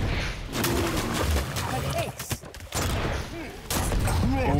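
During a video game duel, a rocket launches with a sharp burst and rushing whoosh among other explosive impacts, while a commentator talks excitedly throughout.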